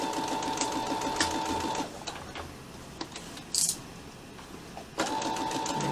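A sewing machine stitches around the outside edge of a fabric mask with a steady rapid mechanical whir. It pauses in the middle, with small clicks and handling sounds, then starts stitching again near the end.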